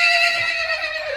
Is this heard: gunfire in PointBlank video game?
no